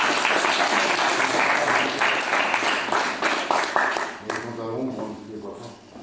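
Audience applause at a public meeting on job relocations fills the first four seconds with dense, loud clapping from many hands, then fades as voices talk over the tail.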